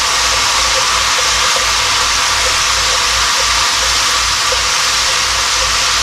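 Red wine poured into a hot pan for a homestyle beef roast sets off a loud, continuous sizzling hiss that stays steady and close for several seconds, with no speech over it.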